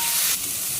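Vegetables and onion lightly frying in oil, a steady bright sizzling hiss that is close and fairly loud with no voices.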